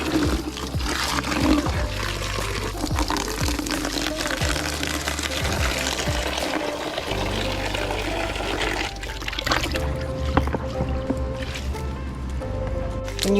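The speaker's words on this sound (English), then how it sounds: "I really need to wash my arm" Water splashes and sloshes steadily while an arm is rinsed clean of dirt in a horse stable, a continuous close wet churning with occasional louder splashes and no talking.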